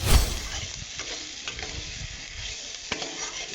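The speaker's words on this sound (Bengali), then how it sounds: "জিরেটা হয়ে গেছে, এবার আমি সেদ্ধ কচুটা দিয়ে করছি।" Boiled taro dropped into hot oil with cumin seeds, opening with a loud sizzling splash that settles into a steady fry with occasional stirring scrapes, close up and alone.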